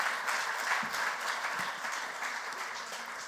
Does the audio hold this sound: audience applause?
yes